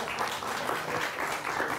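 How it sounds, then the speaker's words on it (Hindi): An audience bursts into steady applause at a political talk event, many hands clapping together in a dense, continuous wash that holds level for the whole stretch. "ताली बजाओ।"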